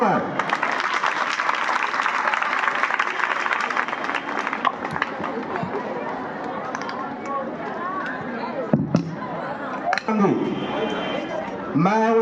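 Audience at a school convocation ceremony applauding the teachers, a dense, steady wash of clapping that continues throughout, with voices and chatter mixed in near the end.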